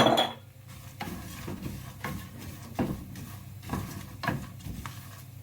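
A spoon stirs toasted seeds and cinnamon in a stovetop pan while granola is being made: soft scraping and light utensil clatter in repeated strokes at close range, with a faint sizzle underneath.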